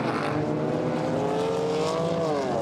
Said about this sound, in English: as the cars now work their way towards the completion of lap number 7